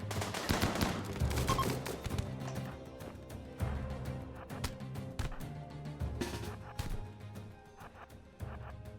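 Dense assault rifle gunfire from a RimWorld colony battle, rapid overlapping bursts running steadily throughout among other game effects and music, with no talking.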